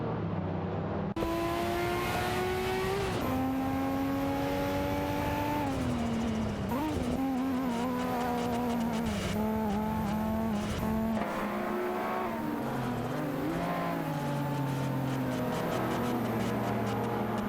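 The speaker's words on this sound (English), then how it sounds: "By Flashar is trying to catch up to Bobardo from Team Blast." Race cars in an AI-driven retro racing video game at Imola, with several high-pitched engines revving and shifting gears continuously, pitches sliding up and down as cars pass, loud and unbroken.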